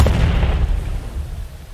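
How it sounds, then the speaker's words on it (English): A dynamite charge dropped from a helicopter on a snowy mountaintop explodes to trigger an avalanche, heard as a distant deep boom followed by a long, fading low rumble. "This is the moment the dynamite is dropped from the helicopter, causing this explosion"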